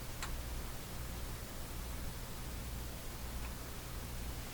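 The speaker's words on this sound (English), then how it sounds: "So I can hear a hiss coming out of the speaker there, very, very quiet." Very faint, steady hiss of static comes from the speaker of a Hallicrafters SX-122 shortwave radio receiver, with a couple of tiny ticks; no talk.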